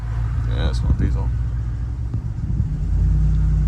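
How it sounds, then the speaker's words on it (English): A diesel vehicle rumbles through storm flooding during Hurricane Milton in Central Florida, its deep engine drone steady and close, swelling louder near the end, with people talking over it. "Yeah, that's one diesel."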